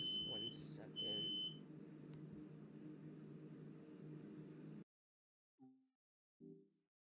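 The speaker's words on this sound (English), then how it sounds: "That was my smoke alarm can go haywire sometimes." A household smoke alarm going off indoors, shrill piercing beeps in the first second over a steady hum that then cuts out, followed by two faint soft knocks.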